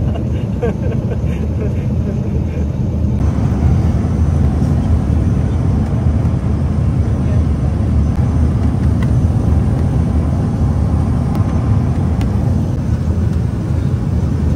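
Small airplane cabin on a bumpy, turbulent flight, a loud steady roar of engine and airflow filling the cabin throughout with no pauses.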